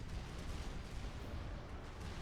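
Artillery fire in the strategy game Supreme Commander: Forged Alliance, a dense, continuous rumble of heavy booms and blasts pounding a base, low and sustained with no voices.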